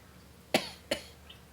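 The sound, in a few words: cough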